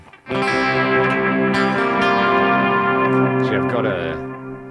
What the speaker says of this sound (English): The really short echo, that is such a sick guitar sound.